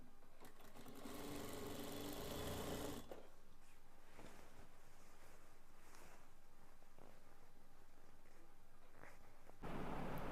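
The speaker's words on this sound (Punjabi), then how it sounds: "ਬੈਲਟ ਦੇ ਉੱਪਰ ਸਲਾਈ ਲਗਾ ਰਹੇ ਹਾਂ" A sewing machine stitches across the belt of a ghaghra in a steady, dense whir, running hard for about three seconds, then continuing more softly with intermittent stops before a loud burst resumes at the end.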